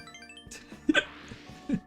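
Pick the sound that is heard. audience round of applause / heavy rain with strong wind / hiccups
hiccups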